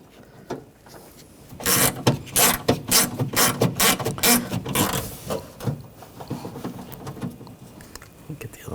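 A hand ratchet driving the window regulator bolts on a Nissan Rogue, rapid clicking bursts in close succession under a quieter mechanical background.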